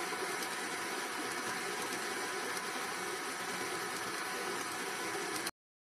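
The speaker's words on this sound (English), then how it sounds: "With the mixer on low, we're going to slowly add our flour." Electric stand mixer running on low while flour is slowly added to sugar cookie dough, a steady even motor hum that continues unchanged for several seconds before cutting off abruptly, with no speech over it.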